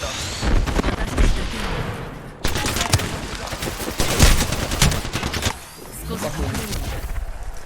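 Intense gunfire in the video game Apex Legends, dense overlapping bursts of close, loud shots with a brief pause after two seconds, then a renewed barrage that thins out near the end.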